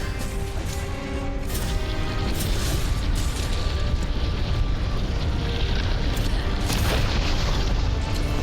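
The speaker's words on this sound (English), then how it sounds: "like the large explosions here" Repeated heavy booms and rumbling blasts from explosions in Monster Hunter World: Iceborne, dense and loud, mixed with crashing impacts and a constant low roar.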